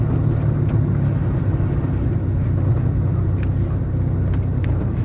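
A steady, low road rumble from inside a moving car on a short drive home, with continuous engine and tyre noise and no talking.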